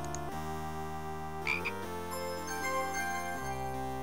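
A frog croaks in the Discworld adventure game, a steady low tonal drone held for several seconds with faint tinkling game music layered over it.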